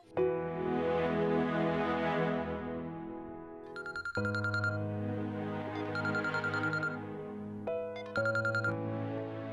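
A mobile phone ringtone plays a repeating melodic tune in sustained, tonal phrases, loud and close, looping several times with no voices over it.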